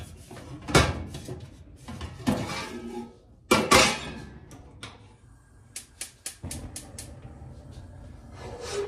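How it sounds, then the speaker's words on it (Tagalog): Pots and cooking utensils are handled at home during cooking: scattered clanks, scrapes and quick clinks at irregular moments, close and moderately loud, with quiet gaps between them. "Lutuan ko muna sila."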